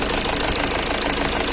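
A Skoda Rapid's engine idles with the air conditioning switched on, a steady close mid-pitched hum with a faint knocking pulse throughout, no voices.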